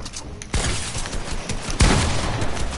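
Rapid bursts of video game gunfire aimed at an enemy: two loud, dense fusillades, each starting abruptly and rattling on continuously, with no talking over them.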